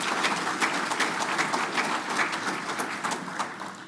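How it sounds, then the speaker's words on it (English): An annual meeting audience of an electric cooperative claps in a dense round of applause, individual claps crisp and close, steady then tapering slightly toward the end. "Let's give them a round of applause."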